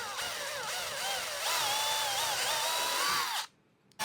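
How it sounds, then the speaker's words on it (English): A power drill whines steadily as it bores holes into small wooden Christmas decoration pieces, its pitch rising and shifting under load for about three seconds before cutting off abruptly. "we're going to drill a hole in the top and bottom of these 2"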